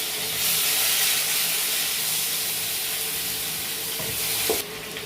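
Tomato and ginger paste hitting hot tempering oil with cardamom, a loud, dense, continuous sizzle close by that cuts down sharply near the end.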